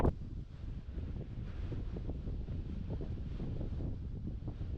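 Wind buffets the microphone on an open fell top near Caudale Moor in the Lake District, a steady low roaring rush with gusty fluctuations, loud and close, with no voices.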